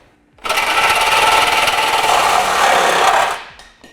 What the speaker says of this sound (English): Now we'll take a Sawzall, or you can use a cutoff wheel